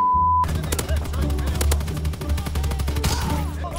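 Rapid bursts of video game gunfire dominate the clip, loud, dense volleys that sound like machine guns and a shotgun, running continuously for several seconds after a brief tone at the start.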